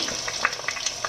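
Chicken pieces for a Ghoti Bati style biryani dropped into fried onions, giving a brief close burst of crackling sizzle with a few quick sputters.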